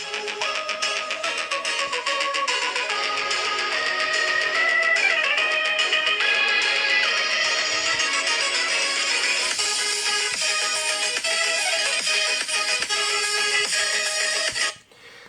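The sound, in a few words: phone loudspeaker playing audio at maximum volume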